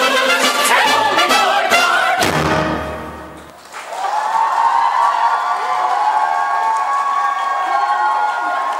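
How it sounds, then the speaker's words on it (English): Crowd applause and cheering at a school English Day stage performance of Into the Woods, music fading out before a long stretch of steady clapping from the audience. "please give them a big round of applause"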